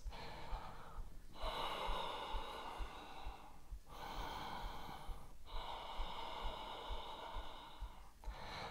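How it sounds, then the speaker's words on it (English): Slow, steady breaths in and out during a power yoga pose, loud and close, in long sustained airy waves with brief gaps between them and no talking. "Slow, steady breath in. Slow, steady breath out."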